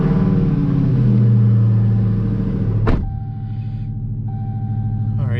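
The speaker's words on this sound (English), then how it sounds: "we're gonna go ahead and start up my Hellcat and go for a drive right now" A Dodge Hellcat V8 fires up with a loud, deep rev that swells and then drops off sharply. It settles into a steady, rumbling idle, with a thin whine running over it, and no one talks.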